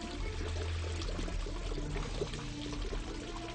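Natural spring water pours in a steady, soft stream along a mountain trail, a faint, continuous trickle heard up close without any voices.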